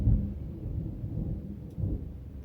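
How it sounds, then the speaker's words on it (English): Low rolling thunder rumbling through a rainstorm, a steady dull roar with a couple of heavier swells, heard from inside as rain keeps up a soft wash underneath. "I think there was some lightning a second ago, which is why we're getting the thunder now"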